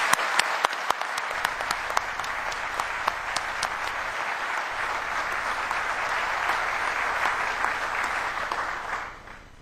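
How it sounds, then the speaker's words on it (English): An audience breaks into sustained applause, a few sharp claps at first swelling into a dense, steady roar of clapping that fades at the end. "with a round of applause"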